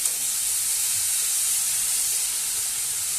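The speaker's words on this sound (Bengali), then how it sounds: "গাজরটা দিয়ে দিচ্ছি। এবার এটাকে ভালো করে ভেজে নেব।" Carrots with crushed cardamom frying in a pan give a steady, close hiss and sizzle that holds evenly without a break, with no voices over it.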